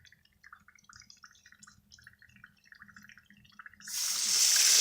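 A few quiet drips and trickles for dry ice in water, then a tap suddenly opens and water gushes loudly and steadily for the last second.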